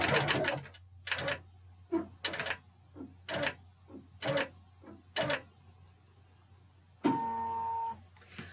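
A computerized longarm quilting machine stitches a pantograph pattern, its motor humming steadily beneath a series of regular mechanical clattering bursts, ending in a brief sustained whine.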